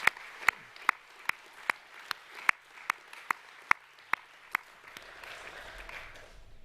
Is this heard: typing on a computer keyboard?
no